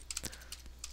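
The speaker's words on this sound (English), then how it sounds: "But if we have new list, we can type in John," A few quick keystrokes on a computer keyboard, close and clear, with short clicks clustered in a brief burst and no voices.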